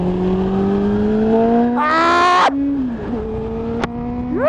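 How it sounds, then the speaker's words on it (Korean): A 2019 Honda CB400 Super Bollo motorcycle with a VTEC engine and TSR exhaust idles with a steady tone, then revs hard in a short loud sweep that falls back, and blips again near the end. "CB400에 들어가는 배기 중에 요시무라가 굉장히 많은데 이 바이크는 TSR입니다."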